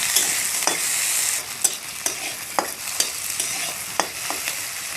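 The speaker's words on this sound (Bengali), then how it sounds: "পেঁয়াজ, রসুন, টমেটো সবগুলোকে একটু নেড়ে চেড়ে ভেজে নরম করে নেব।" Onion, garlic and tomato fry in a pan for masala egg curry, a continuous sizzle broken by a handful of sharp spatula strokes in uneven rhythm, close and without talk.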